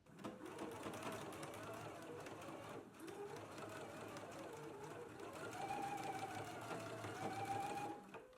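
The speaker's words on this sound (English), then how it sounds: "I'll finish mine off with my serger" A serger overlocks the outer edges of a fabric facing for a dress, running at a steady, fast, muffled whir that sits low and faint and continues without a break throughout.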